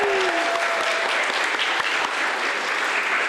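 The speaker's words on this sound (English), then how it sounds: "Now give a round of applause" Applause for the performers at a senior thesis vocal recital, a sustained dense wash of clapping from a seated audience, with a brief tone at the start.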